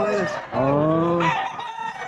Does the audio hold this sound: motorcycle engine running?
no